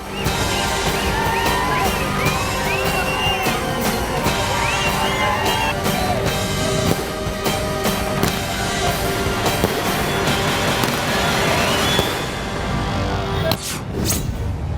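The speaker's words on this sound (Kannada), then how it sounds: "ಪಟಾಕಿ ಹೊಡೆದು ಖುಷಿ ಪಟ್ರು" Sugarcane farmers celebrating at a protest site in Gurlapur, Belagavi, set off firecrackers: a dense run of sharp crackling bursts over a noisy, cheering outdoor crowd, with a few louder pops near the end.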